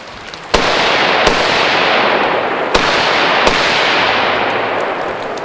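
Rifle shots fired at targets while testing offset sights at a SHOT Show range: four sharp, loud cracks spaced about a second apart over a steady background roar of wind and ambient noise.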